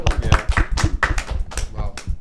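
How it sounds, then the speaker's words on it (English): Several sharp hand claps and taps land in an irregular run amid casual chatter and exclamations among friends during an anniversary hangout, close and fairly loud. "Another clap."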